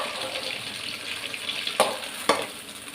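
Eggplant pieces fry in hot oil for ennai kathirikai kuzhambu, giving a steady, moderately loud sizzling hiss with two sharper crackling bursts near the end, and no voices.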